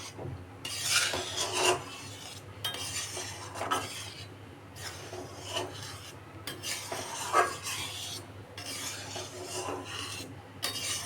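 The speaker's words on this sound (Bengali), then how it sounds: "এভাবে নেড়ে নেড়ে দুধটাকে শুকিয়ে নিতে হবে" Milk powder is stirred in a wok to dry it out, with a spatula rasping and scraping across the pan in steady, repeated strokes. It is close and moderately loud, with no one talking.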